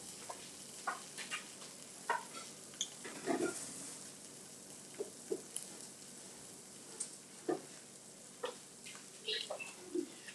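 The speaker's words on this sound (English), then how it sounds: "It's sizzling and it's crusty." Faint, steady sizzling of an egg frying in a pan, broken by scattered small pops and crackles.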